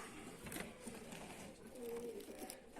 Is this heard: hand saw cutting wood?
no